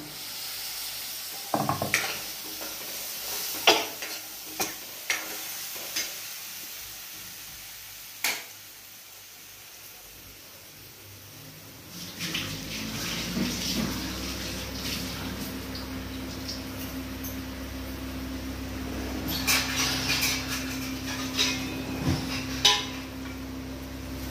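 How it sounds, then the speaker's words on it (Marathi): Chopped tomato goes into a pan of chickpea masala and fries, scattered spoon scrapes and clacks at first, then a steadier sizzle and hiss with intermittent stirring strokes, close and fairly loud. "आता हा टमाटा कापून घेतलाय, हा पण याच्यात टाकून घेऊ."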